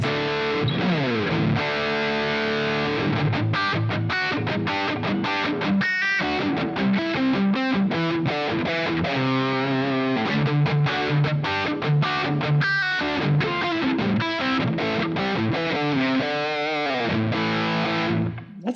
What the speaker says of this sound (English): nice sounding amp.